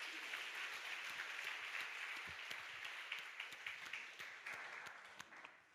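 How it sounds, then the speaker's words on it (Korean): A Methodist church congregation claps after a sermon, faint and a little distant, with scattered individual claps that thin out and taper toward the end; no one speaks over it. "박수하겠습니다."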